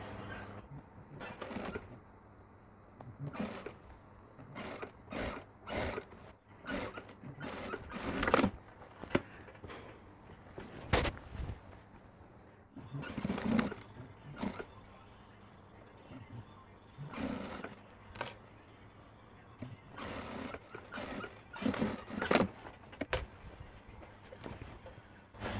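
A sewing machine stitching a kurti collar, running in repeated short bursts of rapid mechanical clatter separated by quiet pauses, close and moderately loud.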